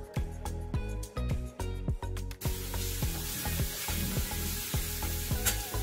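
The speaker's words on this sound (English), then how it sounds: "In the same oil, now add ginger paste and garlic paste. Fry it for a minute." Ginger paste and garlic paste frying in oil, a steady loud sizzle with repeated sharp scraping strokes of a spoon stirring in the pan.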